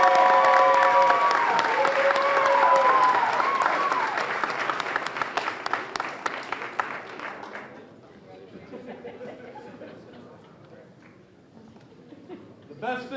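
Audience applause at an outdoor Boston legacy business award ceremony, loud sustained clapping with cheers that slowly thins into scattered claps and chatter, briefly swelling again at the close.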